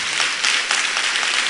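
A church congregation applauding, a steady wash of many hands clapping together at moderate loudness throughout the short stretch.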